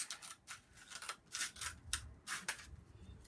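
Scissors snip through paper to cut it in half while making a Pokémon Z-bracelet craft, giving several short crisp cuts in a steady rhythm close to the microphone, with no talking.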